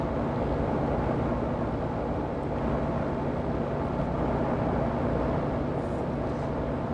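A Cirrus SR22 piston engine in a flight simulator, heard while the mixture is leaned: a constant, loud, droning hum that holds steady throughout, with no talk.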